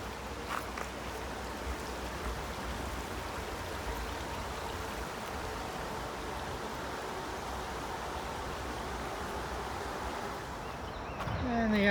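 Dunnfield Creek running beneath a trail bridge on the Appalachian Trail near Mount Tammany, New Jersey, a steady broad rushing wash of water, close and constant throughout.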